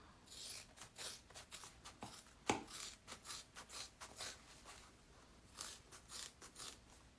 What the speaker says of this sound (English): I'm just going to take my scissors and start cutting at an angle there.